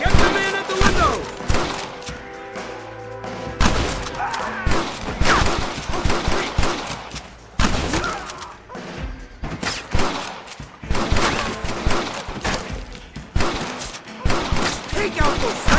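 A Red Dead Redemption shootout with dense, ragged gunfire: repeated sharp shots and clattering volleys across the whole stretch, loud and close, with thuds and breaking sounds and voices shouting among the shots.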